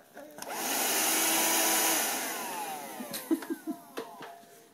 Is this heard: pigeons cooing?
no